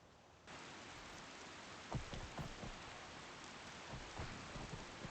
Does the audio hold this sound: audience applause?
no